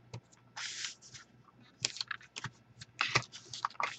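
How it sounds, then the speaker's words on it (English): Card stock folded by hand along score lines, then strips of score tape applied, giving close, quiet bursts of crinkling, scraping and tape-peeling rustles in irregular clusters with short pauses between. "I'm going to make another vertical, just folding on my score lines here and applying score tape."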